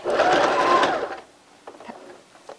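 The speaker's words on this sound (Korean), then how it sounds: "허리 고무줄 2차 박음질 하겠습니다." A sewing machine running a second line of stitching on the waistband elastic of homemade underwear, a loud, close whirring burst for just over a second that then stops, followed by quiet handling clicks.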